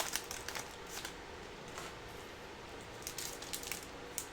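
Panini basketball trading cards being flipped through quickly, a steady papery rustle with soft repeated flicks of card against card, close and fairly quiet with no voices.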